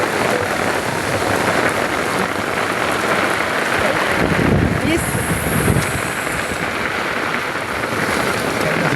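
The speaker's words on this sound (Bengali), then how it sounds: "পুরোপুরি ঝড়ো বৃষ্টি নামছে," Stormy rain pours hard outdoors in a loud, continuous roar of drops, with gusts of wind buffeting the microphone midway.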